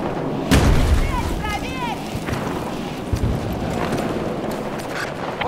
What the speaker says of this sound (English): Grenade thrown!